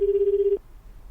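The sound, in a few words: telephone ringing during a phone call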